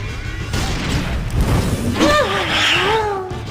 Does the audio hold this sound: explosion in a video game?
yes